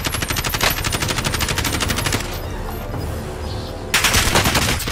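Rapid automatic gunfire in the Warzone battle-royale video game, dense rattling bursts that pause briefly in the middle before another loud volley resumes near the end.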